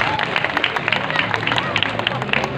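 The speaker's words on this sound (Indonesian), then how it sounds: "tepuk tangan untuk kita semua" Applause at a Banyuwangi cultural gathering, a dense crowd clapping with crisp individual claps standing out, mixed with background crowd murmur and voices.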